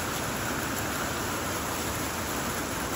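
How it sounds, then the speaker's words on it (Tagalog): Hailstorm pouring down, heard as a dense, steady roar of hail and rain beating on surfaces nearby, constant and loud throughout with no pauses. "Hailstorm talaga siya. Ayun o."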